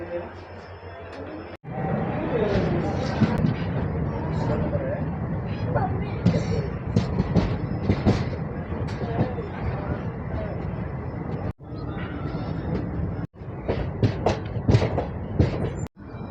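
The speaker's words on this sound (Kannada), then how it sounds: "ನಮ್ಮ ಟ್ರೈನ್ ಲೋಂಡಾ ಪ್ಲಾಟ್ಫಾರ್ಮ್ ನಂಬರ್ 2 ಬಂದೈತಿ" Steady rolling rumble of the Dadar Central (Chalukya) Express pulling into platform 2 at Londa station, with people talking over it throughout and a few brief drops in the noise.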